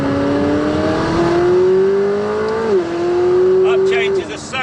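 A McLaren 570S Spider engine revs hard and climbs in pitch, then drops sharply on a smooth upshift and climbs again before another shift near the end. It is loud and close, with no talking.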